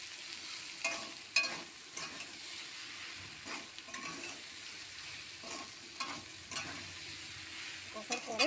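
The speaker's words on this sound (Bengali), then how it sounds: "এবার আমি সব মশলা একসঙ্গে কষে নেবো আলুর সঙ্গে।" Potatoes frying with cumin, coriander and chilli powder, stirred in a pan: a faint, low sizzle broken by soft scraping and clicking strokes of a spoon, close and unhurried.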